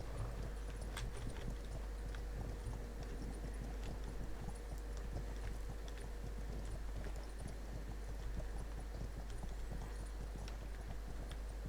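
Rhythmic hoofbeats of a galloping horse in the video game Ertugrul, steady and fairly loud, over a constant low rumbling background.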